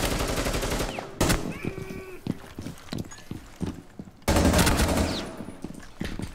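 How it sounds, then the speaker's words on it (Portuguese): Gunfire in the video game Rainbow Six Siege on a reworked favela map, loud sharp bursts of shots at the start and again near the end, with scattered single reports between them. "Estão atirando aqui, então estão atirando no refém."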